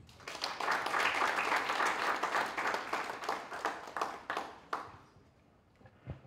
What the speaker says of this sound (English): Another round of applause as he takes his seat.